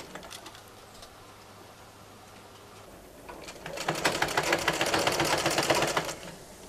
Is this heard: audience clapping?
no